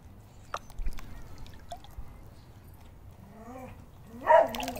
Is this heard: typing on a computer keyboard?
no